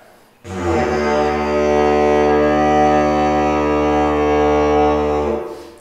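A wooden folk wind instrument, played by buzzing the lips, holds one steady, unchanging drone for about five seconds, loud and close, starting and stopping cleanly with nothing else heard.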